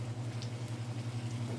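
Onions sauteing in a pan, a steady low sizzle with a constant hum underneath, even and continuous throughout.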